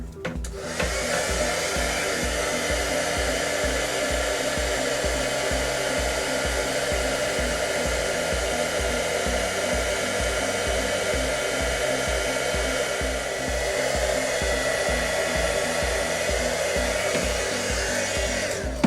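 Hot air blowing to heat and mold a fishing rod grip around the reel foot, a loud, steady, close whirring drone with a buzzing hum underneath, continuous and unbroken throughout.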